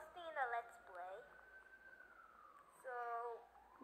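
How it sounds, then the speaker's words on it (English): An ambulance siren passes by outside a house, its wailing tone rising and falling at moderate distance, fading mid-clip and swelling again toward the end. "Don't worry about the ambulance in the background."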